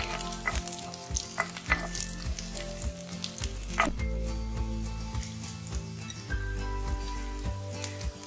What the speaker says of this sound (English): Roast it until the garlic becomes brown.